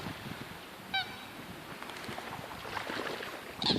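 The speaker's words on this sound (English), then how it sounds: "Just crazed ducks." Ducks give a couple of short, sharp honks, one early and one near the end, against a steady outdoor background hiss.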